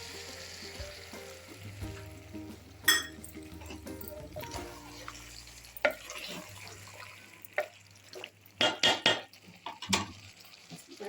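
Tamarind water poured into a pot of home-style South Indian sambar rice with vegetables, a soft running splash with stirring scrapes and a few sharp metallic clinks near the end, no voices.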